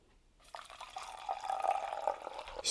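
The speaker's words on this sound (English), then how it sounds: "Let's get just a little bit of boiling water in there." Boiling water is poured into a mug for instant coffee with sugar, a steady, close trickling and filling sound that builds over a couple of seconds after a quiet start.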